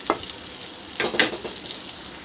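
Vegetable pieces frying in a pan give off a soft, steady sizzle, with a few brief louder crackles and stirring bursts, fairly close and without any talk.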